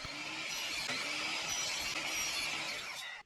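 Wooden slats for a frame are cut with a saw, making one continuous, close, harsh rasping cut that runs about three seconds and then stops abruptly.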